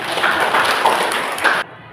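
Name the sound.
classroom applause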